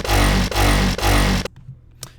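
A synth bass sound made in Maelstrom by tweaking knobs plays as three loud, dense, roaring pulses of about half a second each, then cuts to near silence with a faint trailing tick.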